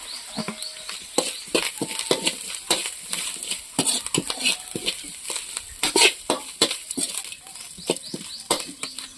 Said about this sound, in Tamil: வெங்காயம் நல்லா பொன்னரமா வணங்கணுங்க.